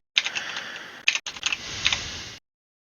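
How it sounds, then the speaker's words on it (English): Fingers type steadily on a computer keyboard, a close, dense patter of key clicks with a couple of brief pauses before stopping. "Sorry, terrible typing today."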